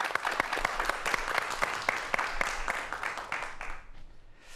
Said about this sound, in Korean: 이 부분을 큰 박수로 청해보도록 하겠습니다